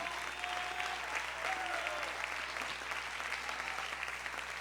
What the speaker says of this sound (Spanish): Dale un aplauso grande al Dios de gloria.